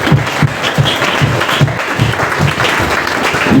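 A church congregation claps at a Sunday service in rhythmic, steady applause, a dense crowd sound that fills the whole moment without spoken words.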